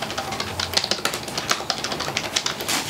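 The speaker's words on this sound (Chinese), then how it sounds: "哒哒哒哒哒键盘" Fast, steady typing on a soft-key Microsoft Desktop 900 keyboard: dense, close, rapid clicks and taps with no talking.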